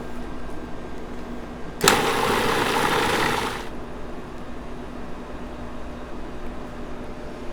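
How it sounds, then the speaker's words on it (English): A blender purees sour cream with a bunch of washed, chopped cilantro into a dipping sauce, a loud whirring burst that starts abruptly, runs about two seconds and cuts off into a quiet room hum. "We're just going to puree all this till it comes together."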